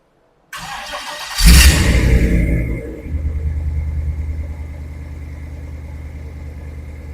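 A supercharged LS6 Chevy V8 rated around 810 hp fires up with a loud cranking catch, a brief rev, then settles into a deep, steady rumbling idle nearby.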